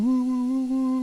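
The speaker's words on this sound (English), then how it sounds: "Now we hear their refueling sound, their little" Aerial refueling tone in the DCS F-15E flight simulator, a steady sustained electronic hum with clear harmonics, holding level for a full second with no speech.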